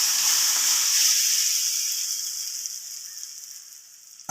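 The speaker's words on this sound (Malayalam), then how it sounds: "നമ്മുടെ കറി എടുത്ത് ഒഴിച്ചു കൊടുത്തിട്ടുണ്ട്" Curry is poured onto hot fried coconut seasoning in a Kerala kitchen, giving a strong hissing sizzle that slowly fades and softens over a few seconds, with no voices.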